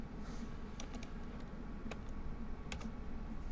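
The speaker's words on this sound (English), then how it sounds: "If I could not hit the wrong buttons on my keyboard" Fingers tap on a computer keyboard, soft scattered clicks over a steady background hum, a few sharper key strikes standing out, with no voices.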